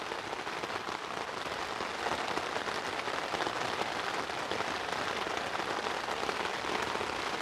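Steady rain falls on a mountain slope, a dense, even hiss of drops spattering on surfaces that holds constant for several seconds, with no voices.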